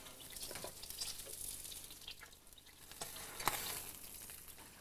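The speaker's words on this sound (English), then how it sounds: "How do you know when they're cooked? Because they sizzle." A garlic butter dish fresh from a 450-degree oven sizzles and crackles softly, a faint continuous fizz with scattered pops close by and no voices.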